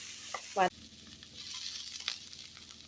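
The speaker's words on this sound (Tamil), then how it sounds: "நல்லா ஒரு அஞ்சு நிமிஷம் நல்லா வதக்கிக்கலாம்" Snake gourd sautés in a pan, giving a soft steady sizzle with a few brief scrapes and clatters of a spatula stirring the pieces.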